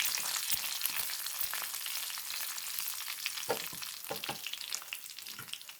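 Curry leaves sizzle and crackle in hot oil in a pan, a steady close frying hiss with scattered sharper pops, loud throughout with no talking.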